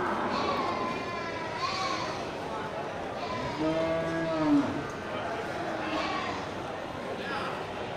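Local cattle moo at a livestock market, one long clear low call standing out over a steady murmur of crowd and voices.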